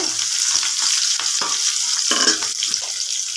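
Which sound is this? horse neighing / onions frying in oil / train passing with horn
onions frying in oil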